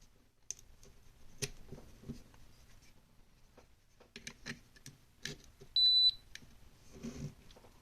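A multimeter used to check a PSP 3001 that will not power on gives one short, clear electronic beep partway through, among light clicks and handling noises of probes and the console, with no talk.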